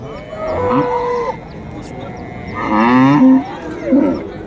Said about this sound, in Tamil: இதெல்லாம் கைக்கறவை மாடுகள்